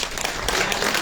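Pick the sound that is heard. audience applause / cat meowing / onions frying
audience applause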